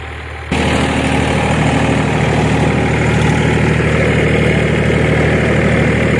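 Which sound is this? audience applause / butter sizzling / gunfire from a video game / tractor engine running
tractor engine running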